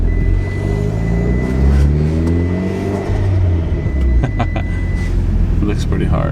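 A Mitsubishi Evo X engine runs with a steady, close, low rumble and shifting throaty harmonics, under faint background voices.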